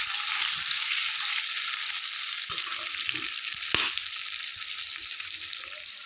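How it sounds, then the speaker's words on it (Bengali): Potatoes frying in plenty of oil with turmeric, giving a steady, close hiss of sizzling with a few soft clinks of stirring partway through. "আলুগুলো দেখো আমি লাল লাল করে একটু কড়া করে ভেজে নিচ্ছি, তেল বেশি পরিমাণে দিয়েছি।"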